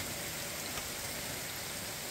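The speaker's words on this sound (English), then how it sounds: "You can see it's a very steady rain" Steady rain falling evenly ahead of Tropical Storm Debby in The Villages, Florida, with very little wind, a constant soft hiss of drops on surfaces with no breaks or other sounds.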